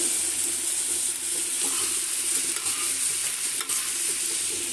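Steady sizzling of bitter gourd frying in a pan, with occasional scraping as it is stirred, close and continuous.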